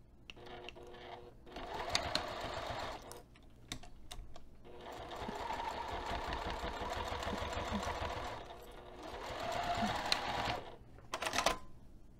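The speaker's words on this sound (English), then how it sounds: "we're going to take this over to the sewing machine, and we're going to sew this top pinned edge" A sewing machine stitches the pinned top edge of a fabric bag being converted into a sling backpack, running in several quiet bursts with short pauses between them.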